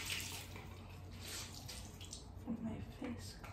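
Running water splashes steadily as a coffee face mask is rinsed off the face, a continuous faint wash of tap water with a few soft splashes and drips near the end.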